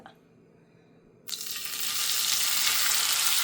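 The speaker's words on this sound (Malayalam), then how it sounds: "മസാലയിട്ടിട്ട് വറുത്തെടുക്കാം" Quiet background, then a sudden loud burst of hissing sizzle as masala-coated dry fish hits hot oil, growing steadily and continuing strongly to the end.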